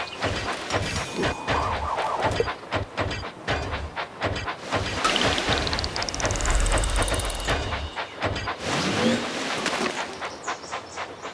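Toy engine from the Thomas & Friends Minis video game running along its track, with a rising whistle-like sweep near the middle over busy game sound effects and chirps, loud and continuous.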